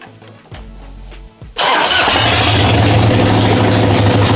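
A cold carbureted motorcycle in a chilly garage cranks over with a few uneven turns, then fires and settles into a loud, steady idle. No one speaks.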